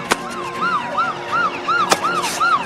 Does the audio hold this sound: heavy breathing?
no